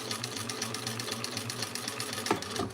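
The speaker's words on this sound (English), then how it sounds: "I'm just sewing those right sides together at seam allowance in the pattern." Close, steady whir of a sewing machine stitching fabric right sides together along a seam allowance, a continuous even hum with a rhythmic pulse throughout.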